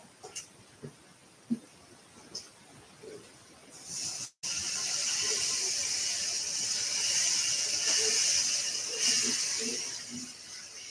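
Vegetable stock is poured gradually into a hot skillet for shrimp and grits. After a few quiet clinks, a loud, steady hissing sizzle starts abruptly and keeps going close by, with no talk.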